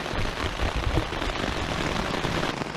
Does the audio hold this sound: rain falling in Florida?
yes